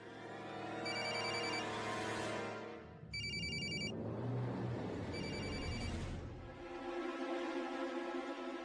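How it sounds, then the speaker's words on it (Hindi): A telephone rings for an incoming call in a home drama scene, with repeated electronic bell bursts over a low rumbling background, loud and close. "एक जरूरी फोन कॉल आ गया है"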